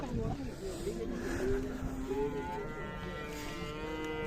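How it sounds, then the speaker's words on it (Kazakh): Cattle at a cow market moo in long, drawn-out low calls, one after another, close by, with people talking through the noisy outdoor scene. "Бул жакта сиздерге уйлар тартып көргөзөм"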